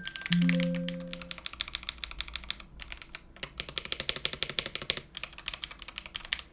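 Rapid typing on an MCHOSE Jet 75 magnetic switch keyboard, a steady stream of light clicky keystrokes up close after a brief tone at the start, with no talking.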